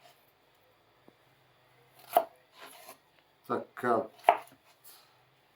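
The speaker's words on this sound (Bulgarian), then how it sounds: "Ние не искаме това да ни случи, затова нарязваме краставичката" A knife finely chopping cucumber on a board for tarator, Bulgarian cold cucumber soup, in a few quick clustered bursts of close, crisp cuts, with a brief spoken word between them.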